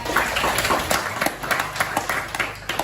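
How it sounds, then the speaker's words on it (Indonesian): A small group claps hands in a classroom coaching session, a short burst of scattered, uneven claps at close range with some background voices mixed in. "tepuk tangan buat kita"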